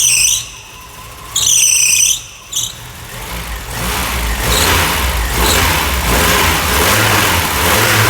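A cold Ford Versailles Ghia with a four-cylinder AP engine revs in two short bursts, the first sharp and whining, then settles into a loud, steady rough running drone close by.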